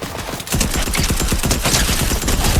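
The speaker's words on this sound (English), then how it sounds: "this submachine gun is an absolute beast, dude" Submachine gun fire in a shooter video game, a sustained loud stream of rapid shots over dense gameplay noise, close and continuous for about two seconds without speech.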